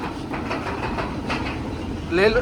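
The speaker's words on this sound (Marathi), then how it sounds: "ट्रेन चालू झालेली आहे आपली, बघू शकता." A train rumbles steadily along with a continuous engine drone and faint rhythmic rattling, heard from on board, with a rising whine near the end.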